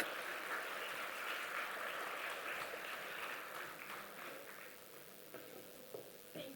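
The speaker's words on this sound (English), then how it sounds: "A huge round of applause and a little bit of music." Applause from an audience welcoming a Japanese creator to an interview event, a fairly faint, even patter that thins out toward the end, leaving a few scattered claps.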